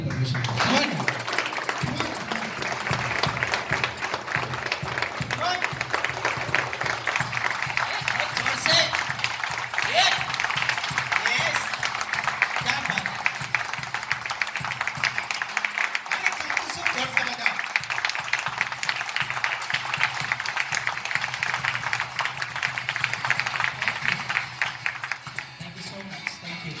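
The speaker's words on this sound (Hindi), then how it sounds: "जोरदार ताली परमेश्वर का" A worship congregation claps loudly and continuously in praise of God, the dense clapping running throughout alongside voices calling out.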